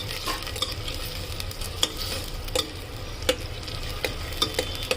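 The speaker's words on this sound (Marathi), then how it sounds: "मोहरी तळली की आपण कांदा टाकूया। आता चांगला परतून घेऊया।" Chopped onion sautés in hot oil with fried mustard seeds for a potato and eggplant curry, a steady close sizzle punctuated by sharp spoon scrapes and stirring clicks against the pan.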